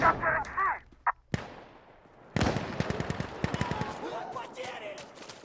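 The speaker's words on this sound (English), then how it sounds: "light machine guns in this game is so satisfying, Sophia. Like it makes the sexiest sound." Light machine gun fire in the tactical shooter Insurgency, heard as a dense run of sharp, rapid bursts in the second half after a few isolated shots, with a voice talking in the opening moments.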